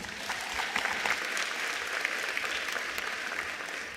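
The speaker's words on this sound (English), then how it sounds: "Let's give her a wonderful round of applause" A large audience at a ministerial announcement of national exam results gives a sustained round of applause, a dense even wash of clapping that holds steady at moderate volume with no voices on top.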